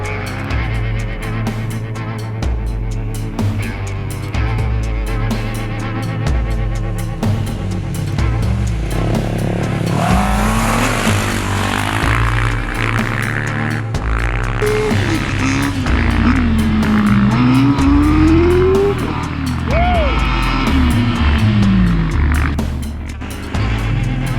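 Several Honda CBR600RR motorcycles pull away in the early morning, engines revving and rising in pitch as they ride off, sustained and fairly loud throughout.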